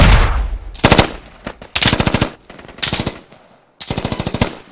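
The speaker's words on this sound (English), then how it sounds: "I'm shooting at the hole" Automatic rifle fire in the Squad military shooter, several loud close bursts of rapid shots separated by short pauses, with no voices over the shooting.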